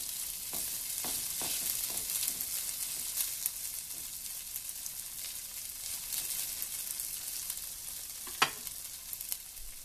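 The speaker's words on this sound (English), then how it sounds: "And spread it out in single layer" Shrimp sear in a hot pan, spread in a single layer. The sizzle is steady and crackling, with occasional sharper pops and light scraping, and no talk.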